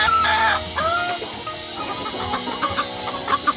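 Chickens being fed cluck and squawk nearby, with some sharp, rising calls over a busy background of scratching and movement.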